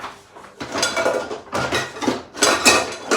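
A metal pan is lifted out from among kitchen cookware to make coffee, giving several rattling clanks and scrapes of pots and utensils in bursts, close and fairly loud, with no talking.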